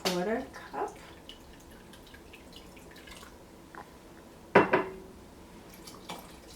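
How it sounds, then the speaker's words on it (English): A quarter cup of liquid splashes into a pot of soup herbs in a brief pour, with drips, a few clinks of utensils and cookware, and soft kitchen noise around it. "So I'm going to pour in a 1/4 cup."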